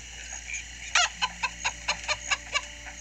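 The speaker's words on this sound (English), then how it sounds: "Chicken?" A chicken in the video game Minecraft Story Mode clucks in a steady run of about eight short, evenly spaced clucks over a faint background hum.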